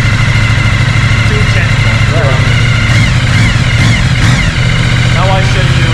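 A race motorcycle engine idles steadily and loudly throughout at a race track in Shanghai, a low rumbling chug with brief speech over it.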